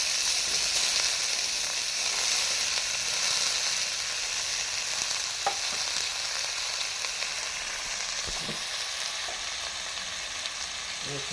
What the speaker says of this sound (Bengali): তেলটা গরম হয়ে গেছে, আমি ডুমুরের ঘন্টায় যে আলুটা দেবো, ওই আলুটা আমি একটু ভেজে নেব।